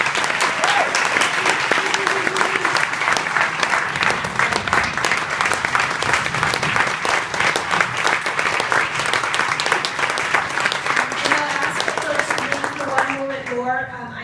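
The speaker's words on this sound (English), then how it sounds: "Can we get another big round of applause for everyone?" A large forum audience at Saint Anselm College gives a long, dense round of clapping that fades at the end as voices come in.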